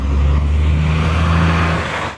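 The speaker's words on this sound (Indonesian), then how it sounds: "Ah ini busnya tuh teman-teman." A bus pulls up close by, its engine droning low and steady with a constant hum for the whole stretch before easing off at the end; no one speaks.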